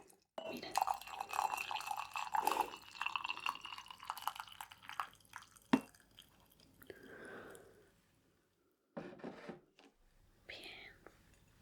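Hot water or tea is poured into a cup during a gentle caregiving scene, a soft trickling stream lasting several seconds, followed by quieter drips and small handling sounds, with whispering nearby.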